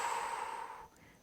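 An exhale during a yoga practice, a single breathy, airy rush of breath lasting just under a second before trailing off, close and fairly soft with no talk over it.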